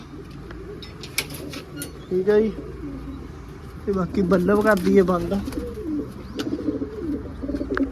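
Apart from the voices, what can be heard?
pigeons cooing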